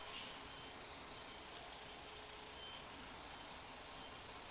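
Road traffic with trucks during a festival, a constant faint rumbling wash of engines with a reversing beep and a hiss of air brakes in the background.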